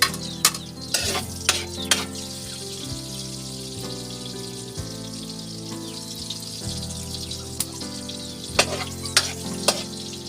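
Chopped garlic and onion fry in hot oil in a pan, a loud, continuous sizzle broken by repeated clanks and scrapes of a stirring spoon that come in short clusters.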